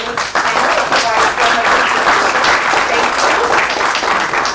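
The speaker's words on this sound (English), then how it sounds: "round of applause for our fabulous panel" A workshop audience gives sustained applause for a panel, a steady, loud, crowded wash of many hands clapping close by, with a few voices underneath.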